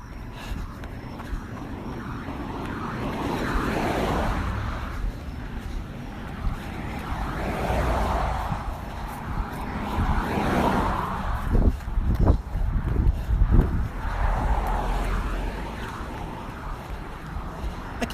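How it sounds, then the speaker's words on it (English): Cars pass by on a road outdoors, their tire and engine noise swelling and fading in several broad whooshes over a windy background, with no one speaking. "I keep pausing for cars to go by."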